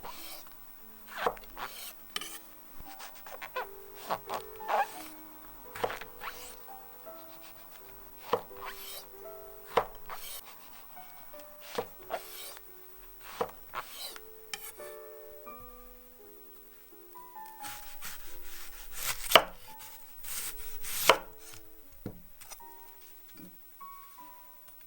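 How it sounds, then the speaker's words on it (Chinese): A knife chopping shiitake mushrooms into small pieces on a board for Japanese simmered beef and tofu, with irregular close taps and cuts spread through the clip, some quick runs and scraping between, no talking. "香菇切小块。"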